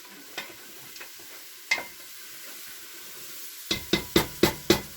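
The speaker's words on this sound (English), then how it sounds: "Deglaze the pan. Look at that. Let that wine cook off just a smidge." Wine deglazing a hot pan for collard greens, a faint sizzle broken by a few soft clicks, then a run of five sharp knocks near the end, no talking.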